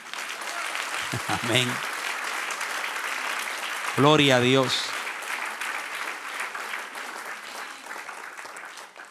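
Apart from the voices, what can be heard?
applause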